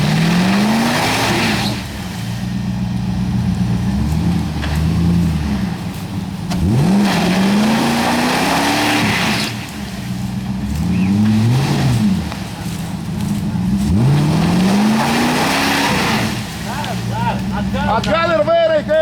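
Jeep Cherokee revving and grinding through an off-road puddle, its engine rising and falling in repeated surges with splashing and tire noise, while people shout directions over it.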